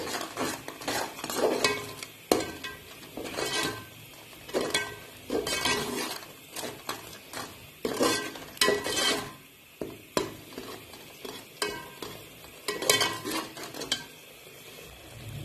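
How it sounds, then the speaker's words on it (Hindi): Turmeric and white cumin masala frying in oil in a pan while a spoon stirs and scrapes it in repeated rhythmic strokes over a faint sizzle, close and moderately loud. "ये मसाला भून लिया मैंने, ऑयल छोड़ दी है मसाले ने"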